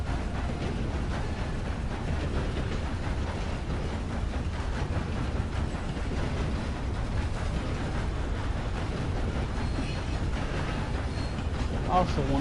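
Stolen train rolling along in Red Dead Online, a steady dense rumble of engine and wheels on rails with a faint clickety-clack, continuous and close, under a player talking throughout.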